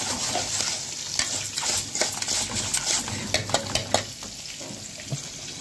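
Breaded chicken sizzles in a frying pan as a utensil scrapes and clicks against it while the pieces are turned. The taps come repeatedly over the constant close frying.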